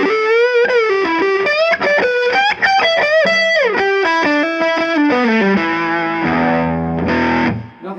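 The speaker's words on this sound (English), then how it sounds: "I have here set up a bit of distortion just from the amp, no pedals, nothing at all." Electric guitar overdriven through an amp pushed into valve distortion with no pedals, playing a loud, sustained melodic run that ends in held chords, with no talking.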